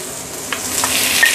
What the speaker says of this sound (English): Okay, just saute for a bit.